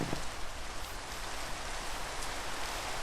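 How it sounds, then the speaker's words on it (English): Steady rain falls in a video game world with stone brick buildings, a dense, even hiss of drops on surfaces that runs unbroken and fairly loud throughout. "even though I love the sound of the rain, I might need to turn that down just so that you can actually hear me"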